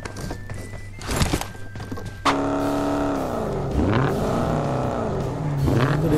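A car engine in PUBG Mobile on Erangel starts up with a sudden loud roar and keeps droning as the vehicle drives, pitch rising and falling with acceleration, following a short stretch of scattered game noise.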